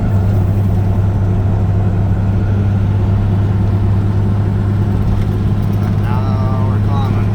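A 12-valve Cummins diesel truck engine tows a 22,000 lb load in fifth gear, a loud, constant low drone filling the whole stretch, with a voice talking over it.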